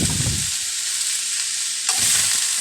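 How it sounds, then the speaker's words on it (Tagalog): Fried fish and chayote are stirred in a pan after salting, giving a loud scraping stir with steady sizzling, first at the start and again near the end, with no talk. "Halaluin natin para ma-mix yung asin."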